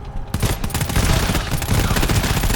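Sustained, loud automatic weapon fire in the co-op shooter GTFO, several guns rattling together in a dense, unbroken fusillade.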